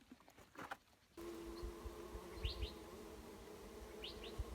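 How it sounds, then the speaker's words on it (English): Swarming insects, including dense numbers of moths, outdoors in the southern Arizona desert, making a steady faint buzzing hum that rises in after a quiet opening, with a few thin chirps over it and no talking. "I hear nothing but swarming."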